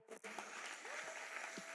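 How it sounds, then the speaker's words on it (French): Applause for Gamaliel Lombo at the Maajabu Rafiki Prime show, a brief burst of audience clapping that sets in after a short pause and holds at moderate loudness. "On applaudit pour Gamaliel Lombo"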